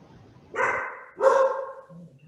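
A dog lets out two drawn-out, fairly close barks in quick succession against a quiet background.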